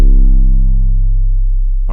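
A deep, booming 808 bass note sustains and slowly fades, a pure low tone with a pulsing wobble, loud and alone.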